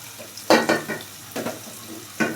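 An egg fries in a pan with a soft, steady sizzle, broken by a few scraping stirs of a utensil against the metal.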